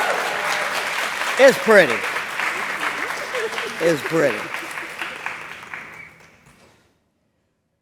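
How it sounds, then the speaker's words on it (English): Audience applause for speakers at a book event, a sustained roomful of clapping that fades out after about six seconds, with voices talking over it partway through. "One more round of applause for our amazing speakers."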